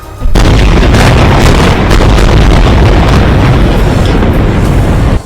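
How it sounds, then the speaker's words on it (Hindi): A loud, sustained roaring blast fills the whole clip, dense and rumbling like a powerful missile explosion heard close up, from missiles striking a building in Gaza. "एक इमारत पर तो एक के बाद एक कई मिसाइलें गिरी, जिसके बाद ऐसा धमाका हुआ"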